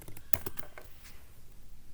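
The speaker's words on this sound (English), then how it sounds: "here at this search column, just type in on Corona" Keystrokes on a computer keyboard, a quick cluster of several light clicks near the start and then a few scattered taps, close and fairly quiet with no talking.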